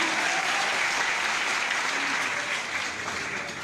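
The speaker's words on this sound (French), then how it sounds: "Un maximum de bruit pour Maou" Sustained applause and cheering fill the hall from an audience at a live show in France, steady and dense throughout before easing slightly at the end.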